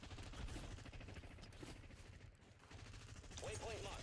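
Sniper and other gunfire in a battle royale video game, a dense run of cracking shots and bursts throughout under game audio.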